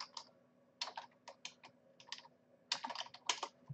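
Bursts of quick keyboard typing, clicky keystrokes in irregular clusters with short pauses between, fairly close and alone.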